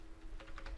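Keys clatter on a computer keyboard in a short, close burst of three or four quick taps at a quiet desk.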